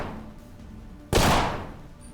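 A single sharp gunshot rings out in the turn-based sci-fi RPG Colony Ship during a courthouse fight, a loud sudden crack followed by a short fading tail after a quiet, low ambient lead-in.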